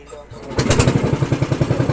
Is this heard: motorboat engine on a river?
yes